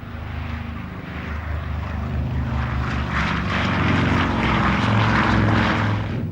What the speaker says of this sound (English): a B-29 named Enola Gay, after the captain's mother, took off from the Mariana Islands.